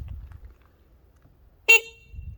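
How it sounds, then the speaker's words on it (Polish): A single short beep from the electric horn of a Romet Pony moped sounds close and clear after quiet low rumble, cutting off abruptly. "Sprawdzamy sygnał dźwiękowy."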